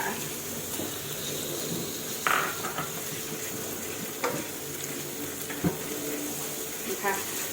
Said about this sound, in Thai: หลังจากนั้นใส่หมูลงไปค่ะ